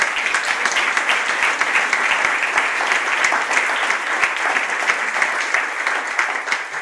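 A conference audience at a business forum applauds partners, dense sustained clapping from a large crowd that stays even and loud throughout, with no voices on top.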